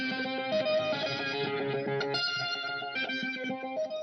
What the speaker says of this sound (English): So I grabbed this Mars Retrograde preset right here. And if we turn on those effects, we get this.